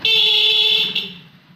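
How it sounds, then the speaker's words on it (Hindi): A motorbike horn blares loud and close in one steady bright tone for under a second, then fades out, with no talk. "अब मैंने हॉर्न चलाना, आप भी देखना"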